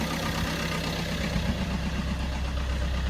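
A Fiat 500 diesel with a replaced DPF runs steadily at idle, its engine making a dense, close, continuous rumble with no other sounds.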